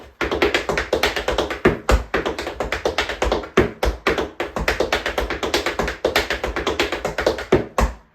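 Rapid rolling tap riffles with periodic heel drops on a hard floor, dense clicking taps with stronger accented hits every second or so, close and loud with no talking.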